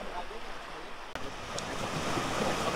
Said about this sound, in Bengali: এই যে সমুদ্রের যে গর্জন, সমুদ্রের যে আবেগ